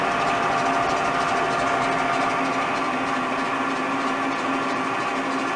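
A lathe running steadily during thread cutting on a parallel lathe, giving a continuous machine hum and whir with a constant tone and no talk.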